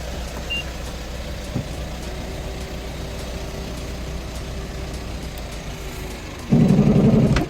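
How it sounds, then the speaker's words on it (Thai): Over a low steady hum, the worn power tailgate strut of a 2020 Mitsubishi Pajero suddenly grinds and judders loudly for about a second near the end. "มีอาการสะดุดของชุดโชคนะครับ เนี่ยสะดุดเป็นรอยขูดเป็นรอยหมดแล้ว"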